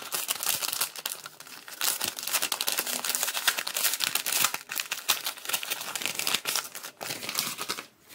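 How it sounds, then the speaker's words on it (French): A paper envelope is torn open and emptied, giving continuous close crinkling and rustling with sharp tearing crackles throughout. "Donc j'ai vidé l'enveloppe."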